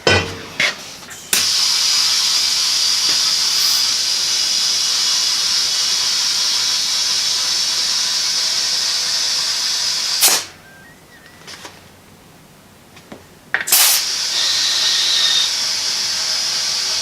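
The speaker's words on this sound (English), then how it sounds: "Let me spray some of that silicone in here." Silicone sprayed from an aerosol can onto a tractor tire while changing the tube on a Ford AA Doodlebug: a loud, steady close hiss held for about ten seconds, a brief pause, then another sustained spray burst.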